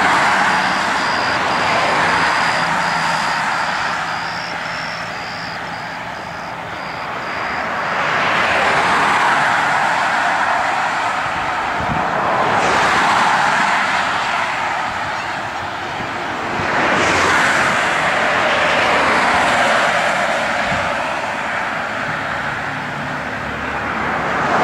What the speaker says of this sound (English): You can actually feel the traffic's actually blowing my jacket around as it goes by me here.